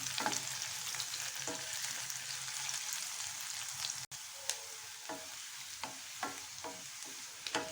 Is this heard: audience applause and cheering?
no